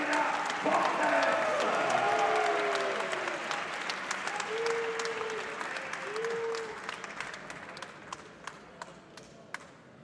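A crowd at a Coupe de France semi-final applauds loudly in a sustained wash of clapping. It thins out toward the end into scattered individual claps, with a few whistles or voices rising through it.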